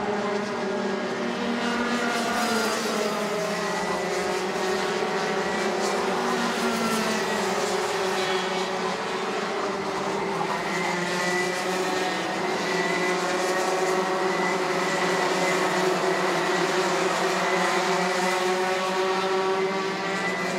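Senior MAX racing karts pass by during qualifying at the 2017 MAX Mizunami series, a continuous high buzzing engine drone with rising and falling pitch as several karts jostle, loud and steady with no voices.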